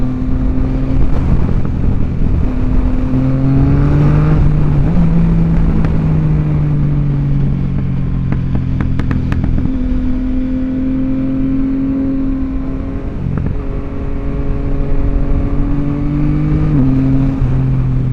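A 2023 Yamaha XSR900 motorcycle engine pulls hard and close, its loud, steady drone rising and dipping in pitch through gear changes under rushing wind, with no talk.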